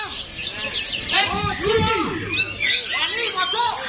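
White-rumped shama (murai) birds singing at a bird-song contest in Banyuwangi, bright chirping whistles and trills rising through steady crowd chatter and talk from announcers.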